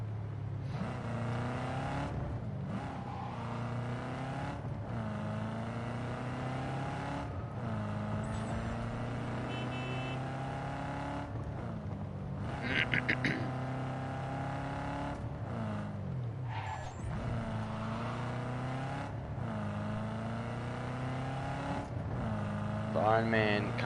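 Car driving in Cyberpunk 2077 on base PS4, a steady engine drone with shifting pitch sweeps as it accelerates and turns, continuous throughout with talk over it.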